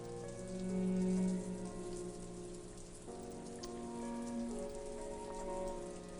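Torrential rain pours down in a steady, dense wash of drops, continuous and fairly close throughout with no voices over it.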